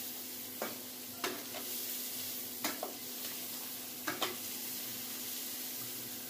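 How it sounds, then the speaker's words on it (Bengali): Onions sizzle steadily in hot oil in a pan while a utensil scrapes and stirs them in quick strokes, often in pairs, at regular intervals over the constant frying hiss. "তো বন্ধুরা আপনারা দেখতে থাকুন পেঁয়াজটা আমি ভাজছি।"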